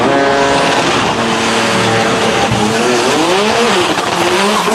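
GT-R drag cars launch off the starting line at a drag racing event, engines roaring loud and close with tire squeal and a rising pitch as they pull away.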